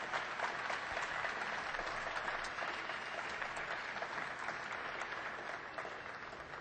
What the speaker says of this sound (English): Please give a round of applause for these folks up here and all of the teams that are involved in this